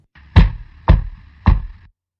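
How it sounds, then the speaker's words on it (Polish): Three evenly spaced, close knocks on a door, each a short hollow thud, played as a sound effect in a Polish audiobook reading of Poe's The Fall of the House of Usher. "chwilę później zastukał z cicha do moich drzwi"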